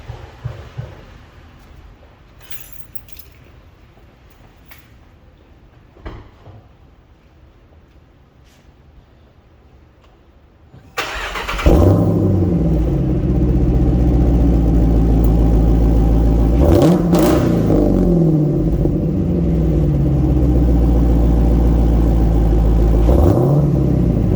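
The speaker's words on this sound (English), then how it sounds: "Let you hear what a Borla exhaust sounds like." After a quiet stretch, a 2018 Jeep Trackhawk with a Borla exhaust fires up with a loud burst, then settles into a deep, heavy idle broken by a couple of sharp revs, with no talking.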